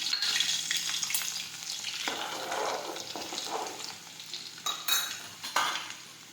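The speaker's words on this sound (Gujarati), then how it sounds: "હવે આપણું તેલ છે તે ગરમ થઈ ગયું છે. હવે આપણે તેમાં ખાંડેલું લસણ નાખીશું." Crushed garlic drops into hot oil in a pan for a tomato and onion curry, setting off a bright, crackling sizzle with scraping stirs and a few metallic clinks of a spoon against the pan, close and without talk.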